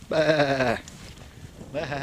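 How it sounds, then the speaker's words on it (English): Two sheep bleats, a long wavering one followed by a pause and then a second beginning, loud and close in open rural countryside at Subberthwaite. "There are lots of sheep around here. You can hear them bleating away."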